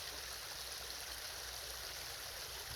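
Sacred water flows steadily in a stream outdoors among trees, a continuous rushing and gurgling wash that holds even and close throughout with no voices.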